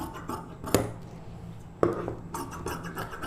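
Scissors cutting blouse lining fabric, two sharp close snips and clicks separated by about a second, followed by soft rustling and scraping against a quiet room background.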